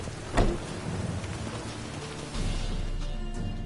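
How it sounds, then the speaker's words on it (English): Heavy rain pours steadily in the video game The Witcher 3: Wild Hunt while a sharp crack of thunder hits near the start, followed by a low rumbling swell later on. "Looks like rain."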